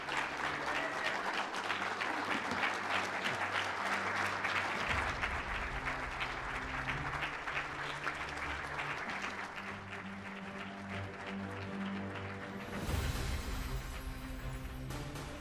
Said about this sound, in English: Let's give Ted a nice round of applause